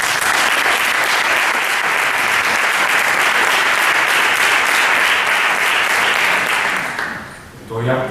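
A conference audience bursts into loud, dense applause that holds steady for about seven seconds before dying away, with a voice briefly audible at the close.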